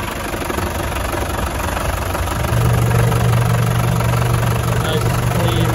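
A 1990 Land Rover Defender 200Tdi diesel engine idles steadily nearby indoors, its low rumble growing slightly louder and heavier partway through, with no talking.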